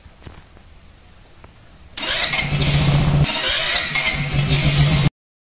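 A motorcycle engine is started during a battery voltage-drop test: faint clicks, then a sudden loud start into a steady, roaring idle close by that cuts off abruptly.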